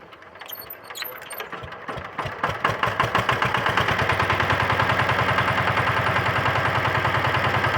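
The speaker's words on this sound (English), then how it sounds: "So now I'll show you how to start and drive this vehicle." A VST Shakti 130 DI power tiller engine cranks with a few uneven pulls and knocks, then catches and settles into a loud, fast, steady diesel chug close by.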